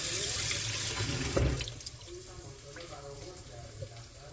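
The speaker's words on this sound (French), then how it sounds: "Juste lave avec de l'eau tiède." Green lentils being rinsed under lukewarm kitchen tap water, a steady close rush of running water with a brief splashy burst, and a quiet voice speaking underneath.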